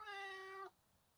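A single drawn-out cat meow, clear and fairly close, lasting over half a second before cutting off into quiet background.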